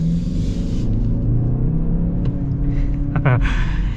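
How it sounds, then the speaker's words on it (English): A 2024 Lincoln Corsair's 2-liter engine pulls under acceleration, a steady low rumble with rising drone from inside the cabin, continuous and fairly loud throughout with no talk. "So we're gonna kind of get an acceleration here."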